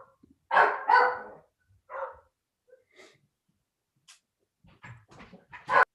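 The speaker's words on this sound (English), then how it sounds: "I've got my dogs barking too." Household dogs bark in a series of loud, close, separate barks. Quieter yips, huffs and breathing fall between them, and a last strong bark lands at the end.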